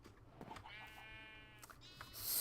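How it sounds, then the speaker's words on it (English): Minecraft sheep bleating on a farm, a few short wavering bleats heard fairly quietly over a low background hum, with no talking. "we're gonna be doing a lot of shearing sheep to get enough for the pilgrim hat"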